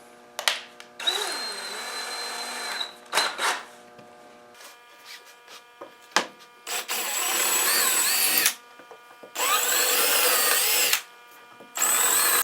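Power drill boring pilot holes into a wood board for a table saw edge-jointing jig, several loud whining bursts of drilling separated by pauses and clicks, close up, no talking.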